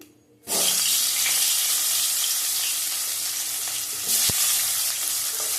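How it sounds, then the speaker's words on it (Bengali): Cauliflower and potato pieces frying together in hot oil, a loud, continuous close sizzle that bursts in suddenly and holds steady, with a brief louder flare near the end. "ফুলকপি আলু খুব কম তরকারি করবো আজকে, একসাথে ভেজে নেবো"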